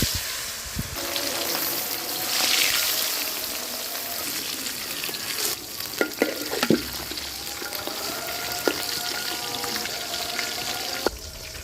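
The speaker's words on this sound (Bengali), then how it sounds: "তেল গরম হয়েছে যখন মাছটা দিয়ে" Pieces of chital fish frying in hot salted oil, a continuous dense hiss and sizzle with occasional louder pops and crackles, close and steady throughout.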